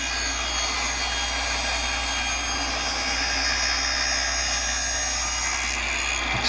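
A table saw cuts a 3/4 inch dado, 3/8 inch deep, into the narrow end of a wooden beehive frame side bar fed on a push block, giving a steady, loud whining roar that lasts throughout.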